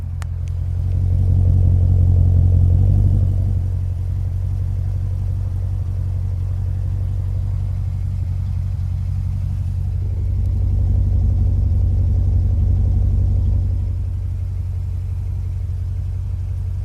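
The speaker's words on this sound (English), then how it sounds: "So that's what the engine and exhaust sound like at idle." A 2014 Jeep Grand Cherokee SRT8 V8 engine idles through its dual exhaust, a steady deep rumble recorded close at the rear, swelling slightly twice as the idle rises and settles.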